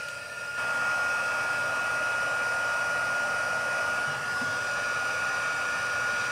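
A heat embossing tool blows hot air over embossing powder on a small card piece, a steady loud fan whoosh that starts abruptly and runs on without pause.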